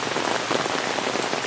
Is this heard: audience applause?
no